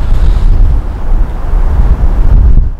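Strong wind buffeting the microphone, a steady low rumbling roar throughout with no other sounds.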